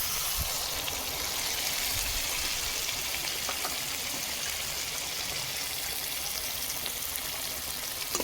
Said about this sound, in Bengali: আর একটু সামান্য জল দিচ্ছি